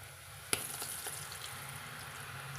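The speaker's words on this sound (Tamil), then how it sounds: "எண்ணெய் நல்லா காஞ்சதும் நம்ம இது எண்ணெய்க்குள்ளே வந்து சுற்றி விட்டுக்கலாங்க." Ribbon murukku dough fries in hot oil with a soft, steady sizzle, a sharp splash at the start as it goes in, then continuous quiet bubbling.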